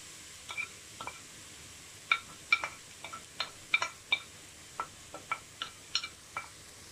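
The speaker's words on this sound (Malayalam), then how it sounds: "ഇത് നന്നായി ഇളക്കി ക്യാരറ്റിൻ്റെ പച്ചമണം മാറി വരുന്നത് വരെ നമുക്ക് ഇളക്കി കൊടുക്കാം" Grated carrot being stirred in hot ghee in a pan for carrot halwa: a run of about a dozen soft, close scraping and clinking strokes at an uneven steady pace over a faint sizzle, without talk.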